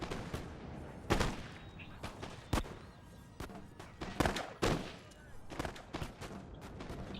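Musket volleys crackle across a Napoleon: Total War land battle at Borodino, a run of sharp irregular reports, some loud and close and others distant, one after another with no steady rhythm.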